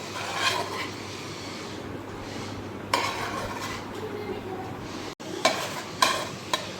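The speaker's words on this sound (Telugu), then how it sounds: "ఈ ఉల్లిగడ్డ ఇవన్నీ వేసేస్తాం." Onions fried in hot oil for egg pulusu, a steady close sizzle with repeated stirring scrapes and utensil clinks against the pan, no talking.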